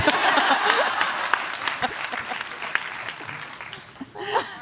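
Convention panel audience applauding, dense clapping that starts loud, fades over a few seconds and ends with a brief burst of laughter and voices.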